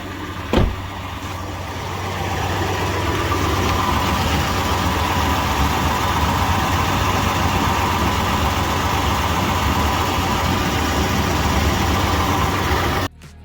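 Toyota FJ Cruiser engine started and left running to warm its automatic transmission fluid, a steady, loud, close idle drone holding for about ten seconds before cutting off, no talking.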